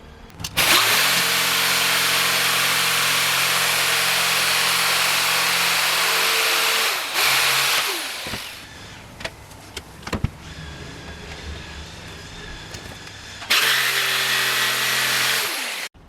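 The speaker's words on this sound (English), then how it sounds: "I've cut around that as cleanly as I can with a jigsaw." A jigsaw cuts around a guitar neck shape in wood with a loud, steady motor whine, stopping near seven seconds, followed by quieter handling noises and a short second burst of cutting near the end.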